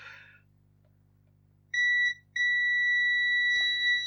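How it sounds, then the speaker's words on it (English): A faulty Marshall Emberton portable speaker with a short circuit emits a piercing electronic beep that briefly breaks off, then resumes and continues steadily, loud and close, with a faint click near the end. "It's doing that thing where it continues to beep"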